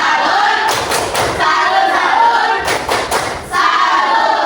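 A classroom group claps a rhythmic salute for another group of students, delivering two short bursts of brisk, loud hand claps with a pause between them.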